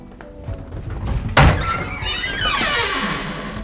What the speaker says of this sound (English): please get the door